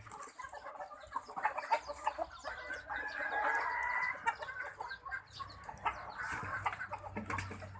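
Chickens raised for sale on a Thai farm cluck and a rooster crows, the calls close and irregular, overlapping with scattered bird noise throughout.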